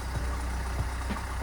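A Vauxhall Corsa engine idles roughly and shakily at close range, a steady low rumble broken by uneven, irregular thumps.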